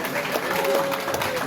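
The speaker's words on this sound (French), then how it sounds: "On applaudit fort" An audience at a workers' medal ceremony claps in a dense, steady wash of applause. It is loud and continuous from start to finish, with a voice faintly audible underneath.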